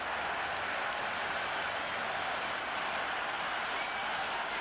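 Stadium crowd at a T20 World Cup cricket match between Australia and South Africa roars and applauds after a six, a dense, steady wash of cheering and clapping filling the whole stretch.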